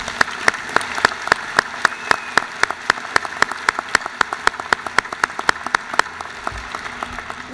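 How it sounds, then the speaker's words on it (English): Applause for doctoral graduates at a university commencement ceremony: a steady, fairly loud run of sharp, evenly spaced claps, sounding like one clear nearby clapper over a softer crowd, continuing for over seven seconds. "Let's applaud the doctoral graduates."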